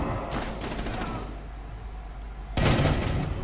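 Video game gunfire comes in two loud bursts, one early rattling volley that fades into a lingering echo, then a second sharp burst near the end, with no talking.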